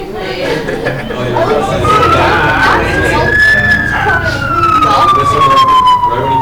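An ambulance siren plays as a sound effect, one long rising-then-falling wail over steady crowd chatter and background noise, loud and close throughout.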